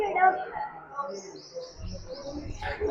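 Birds at a jungle safari in Kevadia give faint, high chirps and tweets in scattered bursts while people talk nearby.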